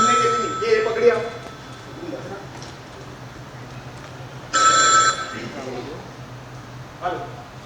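A telephone rings in a Hindi stage play, with a short, bright electronic ring burst standing out against stage ambience, and fainter ring tones before and after it.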